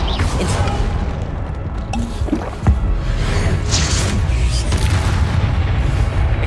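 Spell blast from Expelliarmus in the video game Hogwarts Legacy: a dense, loud booming wash with a sharp thud near the middle, layered with continuous game effects and no talking.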